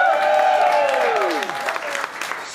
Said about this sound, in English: I want you to warmly, warmly applaud for all of them